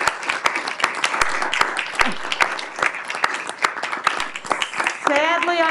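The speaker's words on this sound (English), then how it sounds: "a great round of applause" Applause from the audience at a council meeting for a group of young players, a steady stream of clapping hands filling the chamber for several seconds before a voice begins speaking near the end.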